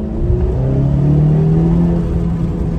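Car accelerating hard in sport mode toward full boost, its engine droning and rising in a steady, loud, sustained roar with rumbling road noise, heard from inside the cabin.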